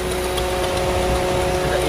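A car engine idles steadily while the air-conditioner fan runs, giving a constant hum with a faint whir on top, close and even throughout, with a person talking over it.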